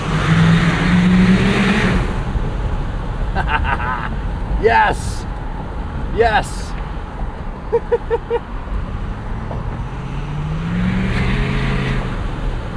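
A 2016 Ford F-350 Lariat Super Duty with a 6.7 Powerstroke diesel accelerates under a bridge, its engine rising in a loud, close rumble with a revving sweep, while a person talks and exclaims over it.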